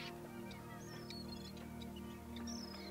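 Birds call near a quiet anchorage outside Cadiz: scattered short honking and quacking calls at moderate distance over a low, steady background hum.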